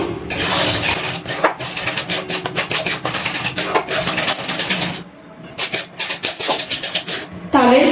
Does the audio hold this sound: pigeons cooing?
no